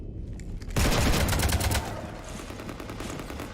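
Gunfire from Mass Effect 3 strafing a ship, a sudden loud burst of rapid shots that starts under a second in, then rattles on as a dense sustained volley before easing into a lower continuous roar.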